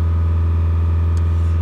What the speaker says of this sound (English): That's just taken the revs up. The static regeneration is underway.